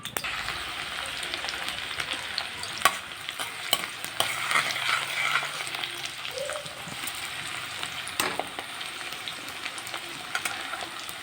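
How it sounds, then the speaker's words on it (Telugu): Onions frying in about four tablespoons of hot oil in a pot for a spinach chicken dish, a continuous close crackling sizzle with scattered stirring clicks, no speech. "ఆనియన్ వేసి వేయించుకుందాం ఫస్ట్."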